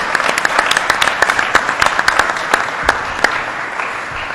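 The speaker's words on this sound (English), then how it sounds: "let's also give him a round of applause for his great leadership in building this institution" Audience applause for the president of SUNY New Paltz at a community reconstruction meeting in Ulster County: loud, steady crowd clapping with sharp individual claps standing out, sustained throughout.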